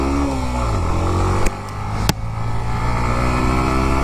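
A Hero Glamour X 125cc motorcycle accelerates in eco mode, its engine note climbing in pitch, then settling into a steady, close drone broken by two sharp clicks.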